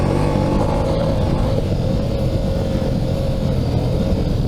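A 2022 Ducati Multistrada V4S engine running smoothly at low speed in second gear while riding downhill, a continuous loud rumble with wind noise and no voices.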